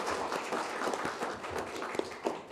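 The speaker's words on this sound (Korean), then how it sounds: "큰 박수로 맞이해주세요." An audience at a book launch and panel discussion claps to welcome a National Assembly member to the stage, producing a steady, dense crackle of applause at moderate distance with no talk over it.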